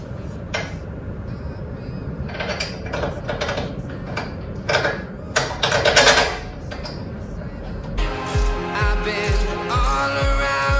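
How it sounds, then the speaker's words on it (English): A bolt is refitted on a height-adjustable coilover of a Passat R36, with close metallic clanks and handling noise followed by a run of quick, regular ratchet clicks. "So now we reinstall the bolt."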